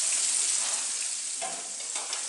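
Pre-boiled octopus pieces fry in a pan with a steady, close, bright sizzle and a little stirring, no voices over it.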